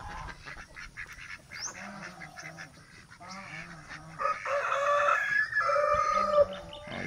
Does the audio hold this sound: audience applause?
no